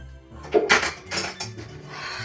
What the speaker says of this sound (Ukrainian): ложкою спочатку вимішаємо